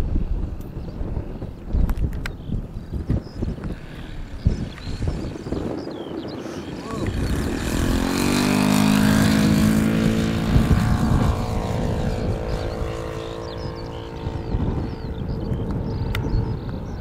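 A Blackhorse Chipmunk RC model plane flying on a windy day, its propeller drone swelling to a clear buzzing pass in the middle and then easing off, under wind buffeting and brief talk.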